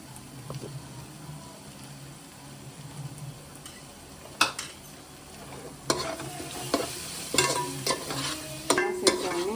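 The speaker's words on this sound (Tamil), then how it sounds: "நல்லா வதக்கணும்." Chicken masala, chili powder, coriander powder and garam masala frying in a pan, with a steady low sizzle and a run of sharper scraping and clinking stirs against the pan growing busier toward the end.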